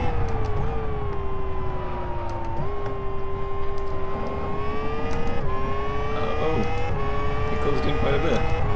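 An open-wheel race car in the Live for Speed racing game, its high engine whine dropping in steps as it brakes and downshifts, loud and continuous with brief tyre squeal, no talking heard.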